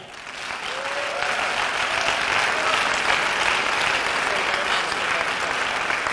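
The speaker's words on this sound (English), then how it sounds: "big and warm applause for Melia" An audience at a Latin dance camp lecture gives a dancer a broad, sustained round of applause that holds steady and fairly loud throughout.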